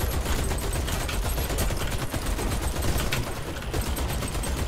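Sustained, dense gunfire from the first-person shooter Warface, in its Chernobyl-style Pripyat mission, bursts of automatic weapons fire rattling loudly and continuously with no talk over it.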